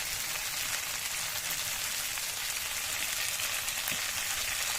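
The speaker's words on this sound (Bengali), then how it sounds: "আলুটা কষাই করে দিচ্ছি।" Potatoes are sautéed in a pan after soybean chunks have been fried, producing a steady, dense hiss of sizzling oil that continues evenly throughout and stays close.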